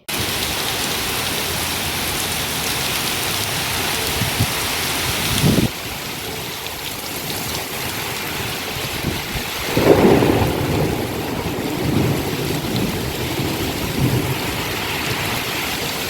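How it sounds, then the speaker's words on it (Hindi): Heavy rain pours steadily during a thunderstorm on the day of Janmashtami, with loud thunder rumbling near 5.5 and 10 seconds over the constant downpour, alone without voices. "इतनी तेज़ बारिश और तूफान सा आया था ना"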